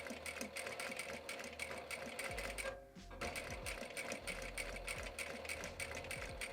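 Sewing machine stitching fabric through a bias tape maker attachment, giving a rapid, steady mechanical whir at close range with a brief pause midway before the stitching resumes.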